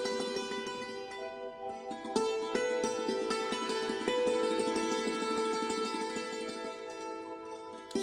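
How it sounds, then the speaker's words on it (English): Sitar-like Eastern plucked string sample from instrumental psychedelic rock, playing bright twangy resonant notes with a sharp new attack about two seconds in, sustained and alone at moderate level. "I found these cool sounding like sitar sounds, which are like an Eastern, you know, like an India style string instrument."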